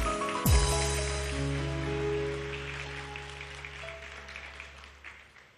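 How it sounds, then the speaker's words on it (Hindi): A studio audience at a Women's Day morning television show in Pakistan applauds over sustained musical tones, starting loud and slowly fading across the clip. "बहुत सारी तालियां परवीन सैयद के लिए।"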